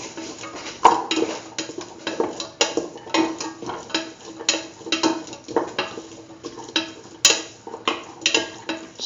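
A spoon clinks and scrapes in a bowl as salt is mixed into a curried beetroot chickpea dip, with irregular close taps and stirring strokes throughout.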